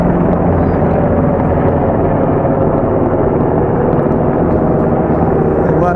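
A pair of military helicopters pass overhead beside an Ozarks lake, giving a continuous loud, broad rotor and engine roar that stays steady throughout.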